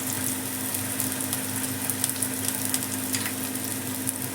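Thinly sliced food and a sprig of curry leaves fry in hot oil, giving a steady, close crackling sizzle with a constant low hum underneath and no one speaking.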